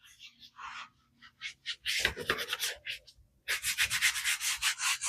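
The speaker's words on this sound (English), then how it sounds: "grab our scrubber. This is another one. And start scrubbing away" A scrubber worked over a car's interior surfaces in rapid back-and-forth strokes, close and rasping, with short bursts early and a denser run of even strokes toward the end.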